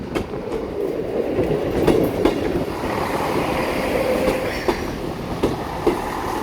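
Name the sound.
train passing Tywyn station foot level crossing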